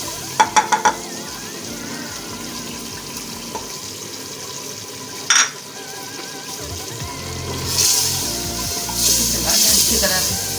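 Yogurt going into a pan of sizzling tinda gosht curry, a steady frying hiss with a few sharp clinks early on and a brighter burst of sizzle and stirring toward the end.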